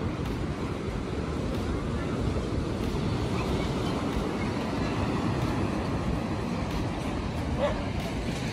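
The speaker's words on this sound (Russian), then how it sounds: "Смотри, какие волны." Sea waves wash steadily against the shore at Odessa on a November walk, a broad continuous rumble of surf mixed with wind buffeting the microphone, with no clear breaks.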